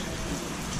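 Heavy monsoon rain pours down steadily, a dense close hiss that fills the whole moment with no gaps.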